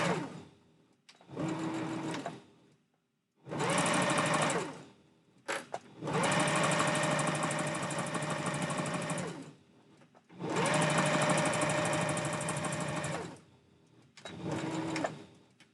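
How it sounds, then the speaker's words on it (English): A sewing machine stitches fabric for a Santa hat in several loud bursts of rapid whirring, each a few seconds long, broken by short pauses with no talking. "Thankfully, machine sewing is very, very fast, so already almost done."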